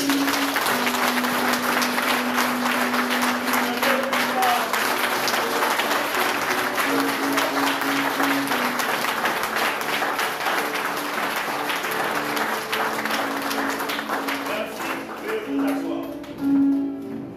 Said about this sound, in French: Donc je vous demande d'applaudir le bon Dieu pour cela.